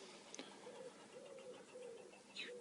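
Outdoor birds, a pigeon or dove, coo in a soft, low, repeated murmur beneath a hissy background, faint and somewhat distant, with a brief chirp from another bird.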